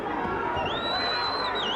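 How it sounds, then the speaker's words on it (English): A crowd at a South African welterweight boxing match swells with excited noise, a broad, steady roar heard from a distance, with a thin whistle-like tone rising above it partway through. "Well, the crowd gets excited."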